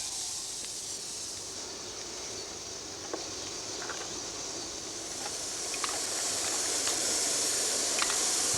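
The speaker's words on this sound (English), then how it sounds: "There's enough steam to go on our own blower now." A model steam locomotive's blower hisses steadily with steam, a continuous broad hiss growing slightly louder over several seconds, with faint clicks scattered through it.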